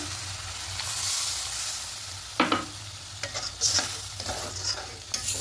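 Water goes into a pan of frying egg masala, giving a steady hiss and sizzle punctuated by several sharp spoon-scraping stirs near the pan, no talking.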